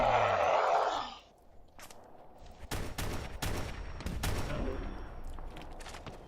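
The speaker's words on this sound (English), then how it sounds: "let's just pop out and shoot like a crazy person" Gunfire in modded Fallout 4, a roaring noise cuts out and then several sharp, loud shots ring out in uneven bursts with echoing tails.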